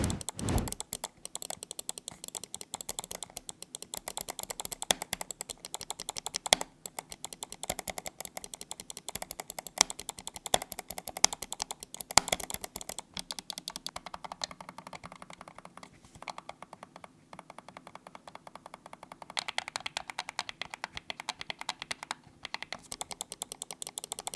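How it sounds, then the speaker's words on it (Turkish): Rapid clicking from the Huano switches of a Rampage Juke SMX-R67 gaming mouse, recorded up close, with dense irregular bursts of sharp clicks continuing for most of the stretch and no talking. "Şimdi gelin bu Huano Switch'ler nasıl bir ses çıkartıyor hep birlikte yakından bakalım."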